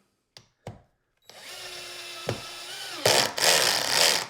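Two short clicks, then a power drill with its clutch set to 10 whirs steadily, briefly dips, and rises to a louder, harsher grinding whine as it drives a screw into wood.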